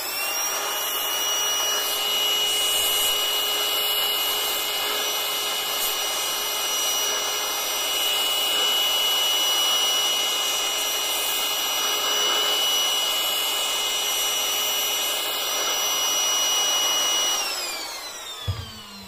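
A cordless 20V inflator blows air through a narrow adapter nozzle, a steady loud whooshing hiss that runs unbroken for about eighteen seconds before cutting off at the end.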